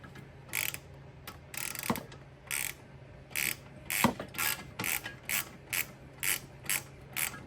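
A ratchet clicks in short bursts while tightening the bolts on a coolant overflow tank of a 2022 Honda Civic, about a dozen separate quick clicking strokes with brief pauses between them, close and fairly quiet.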